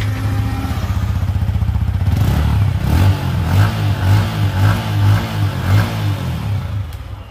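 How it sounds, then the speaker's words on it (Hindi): A 2023 Yamaha R15 V4 motorcycle engine idles with a steady, throaty exhaust note, then revs up repeatedly in loud, close bursts with some mechanical clatter. "अब वैसे अपन इसका एग्जॉस्ट नोट सुन लेते हैं"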